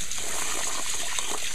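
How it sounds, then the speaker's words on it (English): Basmati rice is washed in water, with short sloshing and trickling splashes heard close up and alone. "Washing the rice, the basmati rice."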